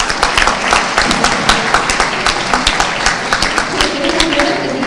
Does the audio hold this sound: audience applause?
yes